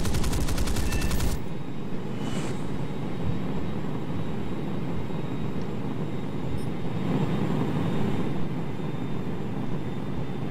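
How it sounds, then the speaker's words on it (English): Cannon fire from an F9F Panther jet in War Thunder rattles in a dense, continuous burst over a steady engine roar, with the guns briefly sharper at the start. "you notice when I fire here how the cannon spread out a lot more"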